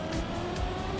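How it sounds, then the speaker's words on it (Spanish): Car engine in the racing video game Trackmania, a steady droning hum held through the whole moment with a faint tonal whine on top, moderately loud and without voices. "Parece que no acelera mi coche"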